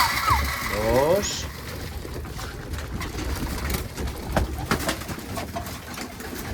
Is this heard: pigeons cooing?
yes